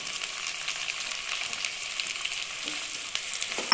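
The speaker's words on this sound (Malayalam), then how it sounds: "ഒരു രണ്ട് വലിയ സവാള പൊടിയായിട്ട് അരിഞ്ഞിട്ട് കൊടുക്കാം" Two large finely chopped onions frying in oil in a pan for egg butter masala, a soft continuous sizzle with light crackles and stirring, fairly quiet, with no talking.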